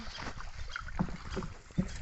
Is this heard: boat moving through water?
yes